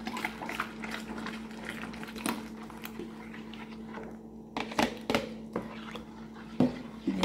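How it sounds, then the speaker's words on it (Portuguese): Water with baking soda is stirred in a basin, giving a quiet, continuous sloshing and bubbling swirl, with a few sharper splashes and knocks near the end. "Agora eu vou colocar aqui e vou mexer."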